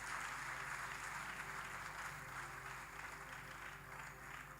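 A church congregation claps during a prayer service. The soft, continuous patter of many hands sounds faint and distant over a low electrical hum.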